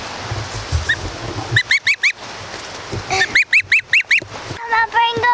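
A pet goose honks close by in several quick bursts, first two or three rapid calls, then a longer run of loud, evenly spaced honks, ending with softer, lower chattering calls.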